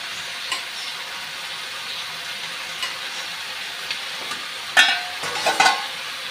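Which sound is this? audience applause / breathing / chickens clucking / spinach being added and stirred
spinach being added and stirred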